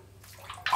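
Running water rinsing during a shave, a short soft wash of flow that swells into a louder splash at the end.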